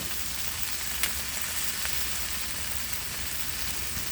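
Tomatoes stir-fry over high heat in a pan with a little oil and a splash of water, giving a steady, rain-like hiss of sizzling with a couple of faint ticks, and no talk.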